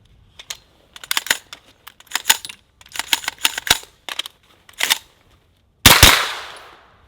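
Shots from an AK-V pistol-caliber carbine crack out in irregular bursts of sharp reports, some doubling rapidly, over several seconds, ending with one louder blast that rings out and decays.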